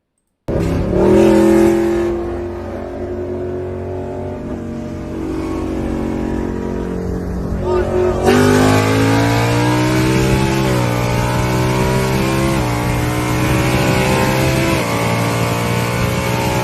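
Drag race between a CJ bolt-on E85 car and a Shelby GT500, loud engines roaring and revving through rising gear pulls for over fifteen seconds, a sharp shift-like break midway, no talk.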